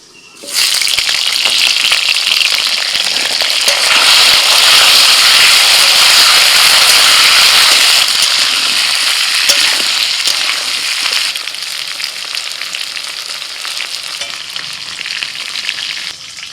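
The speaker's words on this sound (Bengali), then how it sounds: "এবার ওই তেলের মধ্যে ভেজে নিচ্ছি পটল।" Pointed gourd pieces drop into hot oil and set off a loud, dense sizzle that holds steady for many seconds, then eases slightly, with no talking.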